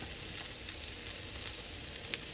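Paneer pieces frying in a pan with just a drop of oil give a steady, soft, close sizzle with a few faint crackles, with no voices.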